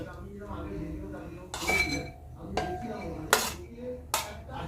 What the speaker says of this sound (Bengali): এবার সব উপকরণগুলো একটা পাত্রে ঢেলে নিচ্ছি